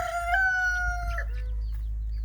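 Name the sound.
chickens clucking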